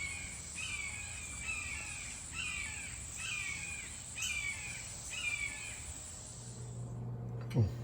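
A bird gives a run of six harsh, evenly spaced squawking calls while flying and hunting, fairly loud over steady outdoor background noise, then the calls stop.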